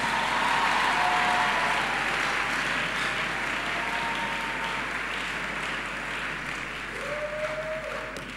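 A church congregation applauds and cheers during a sermon, with sustained broad clapping and scattered voices calling out, fading slightly toward the end.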